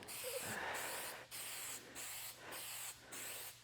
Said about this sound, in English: And you see how I'm spraying through?